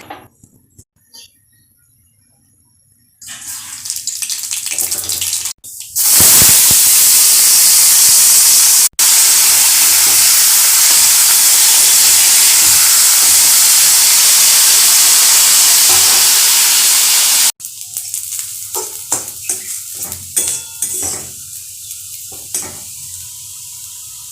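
Potatoes fry in mustard-oil-style tempering with black cumin (kalo jeere), a loud, dense sizzle that erupts around six seconds in and roars steadily for about twelve seconds before dropping back to quieter stirring and clatter.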